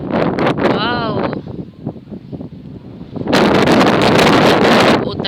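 Strong gusts of wind buffet the microphone on a farm on the first day of winter, roaring loudly in bursts, with a person talking between the blasts.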